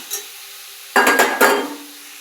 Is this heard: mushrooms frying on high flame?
yes